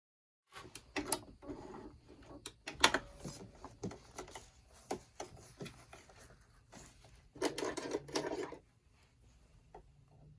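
A sewing machine top stitches a zippy bag in short, quiet, irregular bursts of rapid needle chatter separated by brief pauses and small handling clicks.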